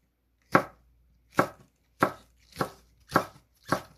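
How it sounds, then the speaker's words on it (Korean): Six sharp knife chops cut through Cheongyang chili peppers on a board, evenly spaced and close, with quiet gaps between strikes. "청양고추는 그냥 썰겠습니다"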